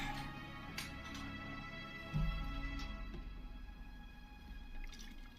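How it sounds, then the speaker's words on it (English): A drink being poured, faint and muffled over a low constant hum, with small drips and a soft splash of liquid partway through. "You can just hear him get up and pour a drink."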